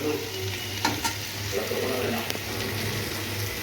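Teasel gourd frying in a little oil in a covered pan, a soft continuous sizzle with a few sharp clicks and stirring scrapes, fairly quiet and steady.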